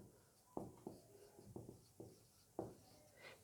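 A pen writes an English answer on paper in a few separate quick strokes, faint and close, with soft scratching rubs and short pauses between them.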